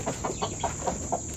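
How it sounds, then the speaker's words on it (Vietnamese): Chickens clucking nearby in a rural Vietnamese yard, a quick run of short, rhythmic clucks repeating about every quarter second over a steady background hiss. "Có mấy con gà đây này."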